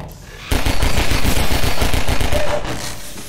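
Rapid automatic gunfire in Half-Life 2: Episode 2 bursts in abruptly, a loud, close string of evenly spaced shots that keeps going to the end.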